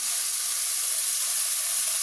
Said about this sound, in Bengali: এবার এই পেস্টটা এর উপর দিয়ে দিচ্ছি।